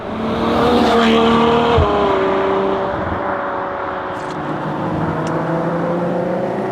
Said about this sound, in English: 30 or 40 in third gear and boot it, and you're at 110